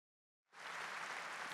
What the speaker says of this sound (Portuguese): Então aplauda esse Deus que se agrada de nós.